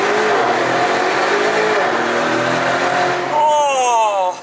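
A car engine, warmed up after idling, is revved hard beside a street where a yellow Lamborghini is parked. The revving runs loud and continuous, with rising and falling engine tones, and a sharper climbing rev near the end.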